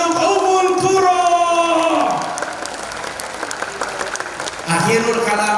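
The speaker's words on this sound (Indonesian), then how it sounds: "Aplaus untuk Ummul Qura." An audience at an Islamic sermon applauds, clapping loud and dense at first, then thinning and softening before swelling again near the end, while a voice talks over it.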